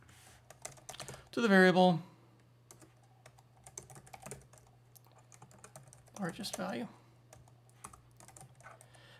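Steady computer keyboard typing of code, soft rapid key clicks scattered throughout at low level, with a person speaking briefly over it twice and a constant low hum underneath.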